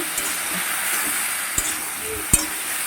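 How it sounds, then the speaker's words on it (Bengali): Vegetables frying in a pan with spices, a steady close sizzle and hiss broken by a few soft knocks of stirring. "এবার সবজিগুলোকে ভেজে নেব"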